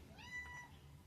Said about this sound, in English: Apologies for my cat.